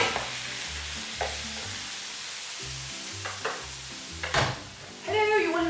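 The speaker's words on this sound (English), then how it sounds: "I'm actually going to cook the rest of the Brussels sprouts in the bacon and the bacon fat." Brussels sprouts cooking in hot bacon fat with crisped bacon, giving a steady sizzle and frying hiss under repeated stirring and scraping, with a louder burst of sizzle near the end.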